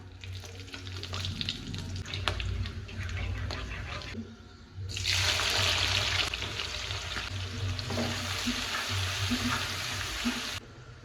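Whole spices such as cumin, bay leaf and dried red chilli fry in onion-fried oil, giving a close, steady sizzle with stirring scrapes, which surges louder midway through before easing off at the end.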